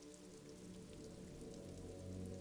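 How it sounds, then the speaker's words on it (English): Steady rain falling over water in the video game Disco Elysium, a soft continuous patter and wash holding even for the whole stretch, faint and with no voices. "Sheets of rain over the water"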